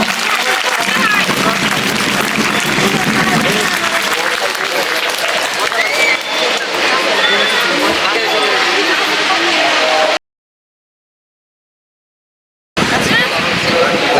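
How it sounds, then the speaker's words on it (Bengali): A crowd applauds at an annual school sports competition on a college campus, loud sustained clapping over babble and a speaking voice, cut by a brief gap of silence before resuming. "জোরে হাততালি হবে স্যারের জন্য"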